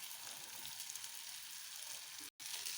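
Ridge gourd pieces frying in a pan with onion, turmeric and chili powder, giving a steady, fairly quiet sizzle with one very brief dropout near the end and no talking.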